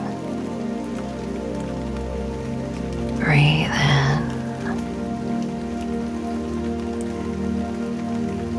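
Steady rain falls on a surface with a dense, even patter throughout, while a calm voice speaks briefly partway through.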